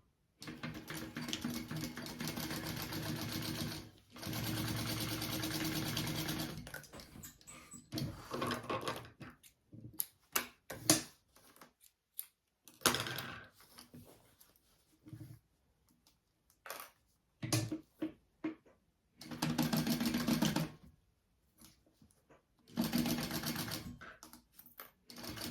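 A sewing machine basting fabric pieces of a crossbody bag, running in long whirring stitching runs, then shorter start-stop bursts separated by silences, close and steady.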